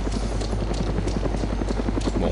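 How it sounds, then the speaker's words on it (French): Helicopter in the video game DayZ, a steady low rotor thump with rhythmic blade chop pulsing continuously, fairly close and loud. "Ah, il y a un hélicoptère."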